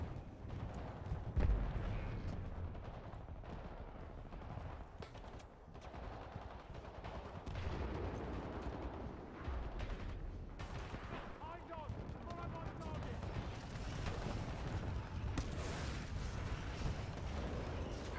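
Missiles firing and explosions in a Titan video game, a rumbling run of booming blasts and bursts of fire with heavy low thuds over eighteen seconds, with voices talking over parts of it.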